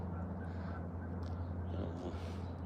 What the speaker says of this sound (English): I hear ducks and geese and everything else.